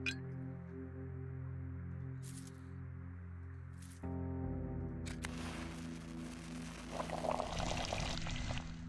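Water pouring from a repaired pump into bottles in the video game Pathologic 2, a steady game hum that turns into a louder splashing gush partway through, with no talk.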